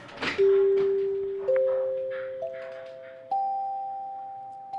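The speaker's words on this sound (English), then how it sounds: "Called to the dining room by chimes" A set of clear dining car chimes on a train plays a rising sequence of four tones, each ringing out and slowly fading, with faint background noise.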